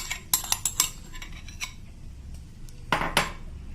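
Gelatin scraped from a bowl into a pan over a medium flame for Turkish delight, heard as a quick run of spoon-on-bowl clinks and scrapes, then a pause and two more clatters near the end.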